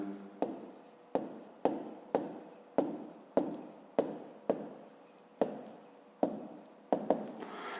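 Pen strokes on paper while working a fifth-grade maths equality exercise, about a dozen crisp, evenly spaced scratches, each a short burst fading quickly, close and quiet with no talk.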